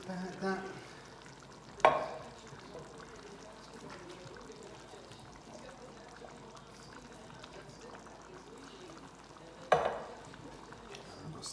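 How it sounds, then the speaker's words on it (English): A spoon works through a pot of chili with diced tomatoes, beans and their juices, a soft wet stirring and light bubbling. Two sharp scrapes or knocks against the pot stand out, and the whole sound is fairly quiet and close. "Stir that up."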